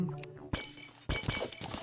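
Pots shatter in the Terraria video game, with two sharp breaking crashes about half a second apart, each followed by brief tinkling debris, with no voices.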